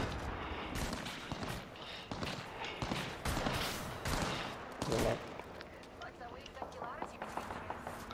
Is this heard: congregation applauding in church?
no